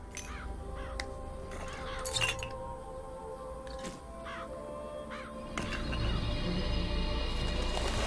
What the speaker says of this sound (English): Murder of crows. That's a hell of a thing.